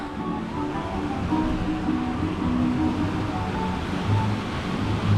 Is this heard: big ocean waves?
yes